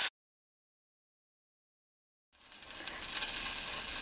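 A handful of fresh mint sautéed and stirred in a pan for chutney: after a brief cut and a gap of silence, a steady close sizzle rises and carries on.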